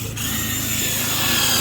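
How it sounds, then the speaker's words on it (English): A power drill drives tek screws down into a beach-build deck, its motor whirring loud and steady for the whole span after a brief start, with no talk over it. "we're screwing that deck down with all these"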